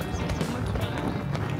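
Horse hooves clip-clop in a quick, uneven rhythm on a hard surface, close by, with faint background noise.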